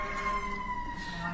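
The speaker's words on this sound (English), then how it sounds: "and we have a siren again." An emergency vehicle siren wails steadily in the background, sustained and fairly loud throughout, during a remote video-linked courtroom hearing.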